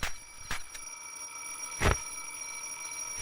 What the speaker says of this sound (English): We can't let it ring all night.